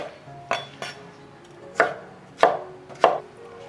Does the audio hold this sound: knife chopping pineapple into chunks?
yes